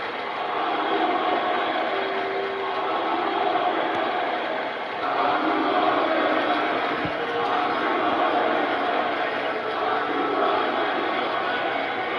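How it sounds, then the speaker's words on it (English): A wrestling crowd fills a hall with steady, loud, continuous chanting and jeering aimed at the champion as he leaves ringside. "the crowd taunting the champion as he leaves the ringside area"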